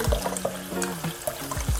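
Tap water runs over dried shrimp being rinsed in a strainer, with close, loud splashing, gurgling and uneven bursts of spatter as the water drains through.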